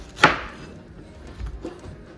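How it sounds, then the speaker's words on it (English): A knife chops through a pineapple on a cutting board, one sharp, close thunk followed by a couple of softer cuts, with no talking. "So I'm gonna cut all this"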